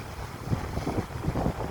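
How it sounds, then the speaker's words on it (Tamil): Strong seaside wind buffets the microphone in rumbling, low gusts, a steady roar with no voices. "அதாவது என்னென்னா காற்று கொஞ்சம் பயங்கரமாக இருக்குது."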